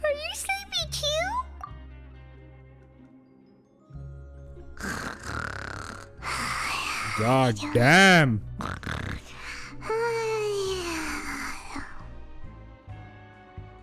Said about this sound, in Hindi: इतने खर्राटे?